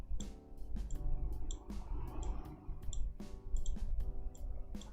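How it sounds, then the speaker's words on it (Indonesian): Several crisp computer mouse clicks in a quiet room during a SmartPLS software session, spaced irregularly over a steady low hum. "Lalu kita klik save."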